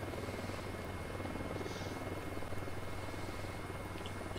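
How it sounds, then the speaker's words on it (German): A helicopter in the video game Ghost Recon Wildlands passes overhead as a steady, continuous low rotor drone with engine hum, fairly distant and unbroken throughout, with no talk. "Hab den Heli oben über uns ein bisschen auf dem Schirm"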